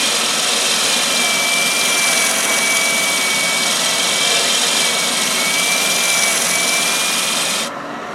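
A wood lathe spins steadily while a sanding arbor rounds over the edge of a turned piece, a loud continuous rushing, rubbing drone with a faint steady whine, alone, easing down slightly at the very end.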